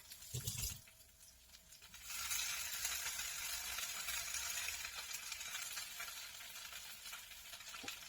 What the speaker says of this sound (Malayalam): എന്നിട്ട് ഇതിലേക്ക് ഇഞ്ചിയും വെളുത്തുള്ളിയും ചതച്ചതിടുക. നല്ലോണം വഴറ്റുക.